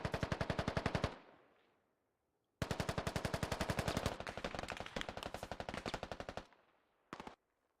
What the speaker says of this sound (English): Slender with the full auto